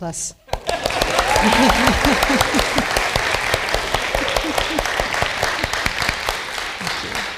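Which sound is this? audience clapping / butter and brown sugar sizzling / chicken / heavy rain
audience clapping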